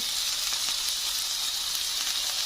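Seasoned salmon fillets sizzle steadily in a frying pan, a dense, bright, close frying hiss that holds unbroken throughout.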